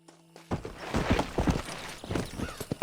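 Horse hooves in Red Dead Redemption clop in an uneven walking rhythm after a brief quiet start, close and fairly loud, about a dozen distinct hoof strikes.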